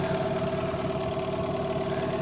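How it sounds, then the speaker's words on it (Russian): Small boat outboard motor idling while warming up, a steady pulsing mid-pitched drone with a fixed humming tone, close and continuous with no talk over it. "Вот так, двигатель у нас завелся."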